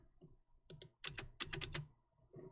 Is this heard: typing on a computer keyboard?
yes